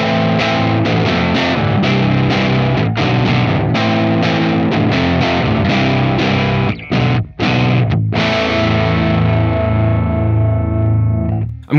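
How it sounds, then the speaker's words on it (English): An electric guitar tuned low plays heavy chords through a Farm Pedals Spirit Animal distortion pedal, thick and saturated, loud and continuous with brief choked stops before a final ringing chord. "I want to demonstrate how the spirit animal sounds with a lower tuned guitar."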